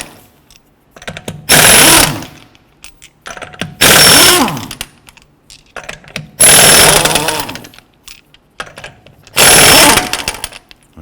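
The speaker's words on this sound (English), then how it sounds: "Using a 19mm socket, go ahead and remove the lug nuts." A power tool removes the rear wheel lug nuts of a 2012-2017 Toyota Camry with a 19mm socket. It sounds in four loud, separate whirring bursts with short quiet gaps between them.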